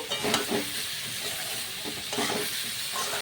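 Spices with salt, turmeric and chopped tomato being stirred and fried in a pan for a hilsa and green banana curry, a steady close sizzle with scraping stir strokes and no talk.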